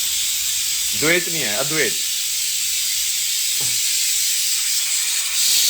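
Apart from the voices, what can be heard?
pressure cooker releasing steam while cooking chickpeas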